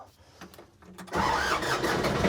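A vehicle engine, out of gear, revs up as throttle is applied while preparing to move rocks for a pond, rising from quiet idle to a loud, steady roar that holds to the end.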